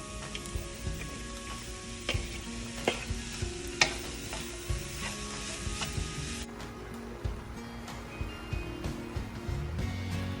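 Mushrooms and grated coconut are stirred in a pan over a low flame for Kerala mushroom thoran. A soft sizzle runs throughout while the spoon scrapes and taps the pan in irregular clicks, fairly quiet and close, without any talking.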